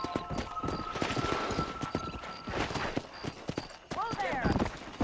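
Horse hooves clip-clop at a run in the video game Red Dead Redemption, a steady close rhythm mixed with game music and a voice speaking over it.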